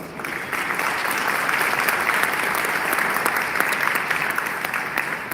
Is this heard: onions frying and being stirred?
no